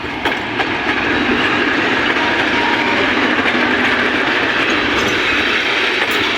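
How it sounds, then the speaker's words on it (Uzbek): A four-carriage passenger train pulls into Gurlan railway station, its loud, steady rumble and rolling wheel clatter filling the scene up close with no talk. "Mana poyezd keldi. Mana 4 vagon."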